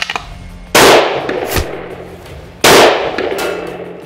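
Two loud rifle shots at a shooting range, each a sharp close blast followed by a rolling echo, spaced about two seconds apart.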